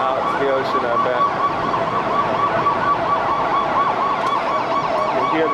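Emergency vehicle sirens wail continuously in overlapping, wavering cycles, loud and sustained, amid city noise during the September 11 attacks in New York.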